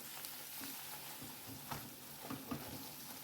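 Grated ginger, added after garlic, frying gently in a pan on low heat for a chickpea-and-yogurt dish, giving a soft, steady sizzle with a few light stirring knocks.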